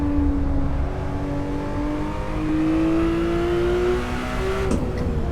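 A Porsche 911R engine in Assetto Corsa on the Nordschleife, revving steadily with rising and shifting engine tones, a loud continuous drone with a brief gear-change blip near the end.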